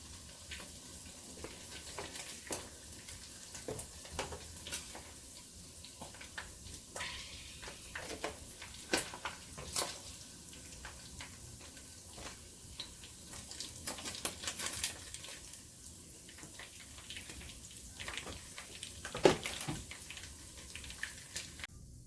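Meat frying in oil for egusi soup, a steady low sizzle and crackle with scattered pops and ticks running throughout, fairly faint and with no talking.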